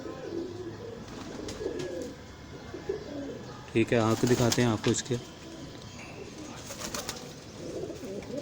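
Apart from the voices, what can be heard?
Mamdin Golden pigeon cooing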